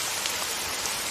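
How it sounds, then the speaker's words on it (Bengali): Steady rain pouring down, a dense, even hiss of drops on surfaces with no breaks, close and fairly loud. "এই বৃষ্টির মধ্যে কি কষ্ট"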